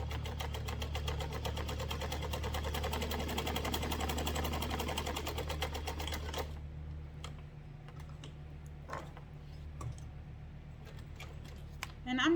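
A sewing machine top stitches along the edge of a fabric key fob, with a quick, even needle chatter and motor hum close by for about six seconds, then stops, leaving quieter handling clicks and rustles.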